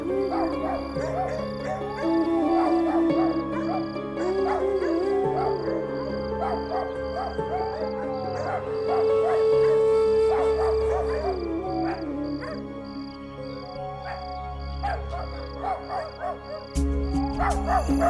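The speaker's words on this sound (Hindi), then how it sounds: "ये सारे कुत्ते एक साथ रो क्यों रहे हैं?" Several dogs bark and howl together in a long, wavering chorus, the howls rising and falling over one another at middle distance, with a sudden louder burst near the end.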